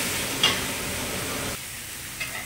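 Hariyali chicken pieces going into a hot pan, giving a steady loud sizzle with a brief stir or clatter early on, then a softer frying hiss and another small clink near the end.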